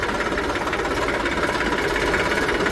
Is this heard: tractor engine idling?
yes